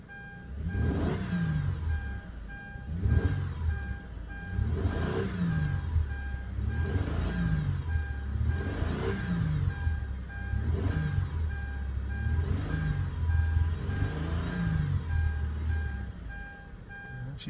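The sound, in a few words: 2005 Kia Amanti 3.5 engine running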